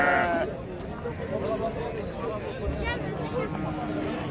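Lambs bleat repeatedly in wavering, high calls, close by at a livestock market, with people talking over them throughout.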